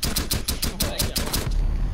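Rapid gunfire from a pistols-only ranked match in a first-person shooter, a fast run of about a dozen sharp, evenly spaced shots at close range that stops abruptly, followed by a low rumble.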